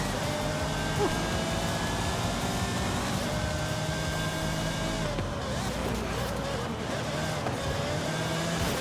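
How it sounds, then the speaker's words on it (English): Car engine in the Forza Horizon 5 racing game, a loud continuous drone that holds steady, then shifts pitch slightly near the end as the car changes speed. "this car does sound good though"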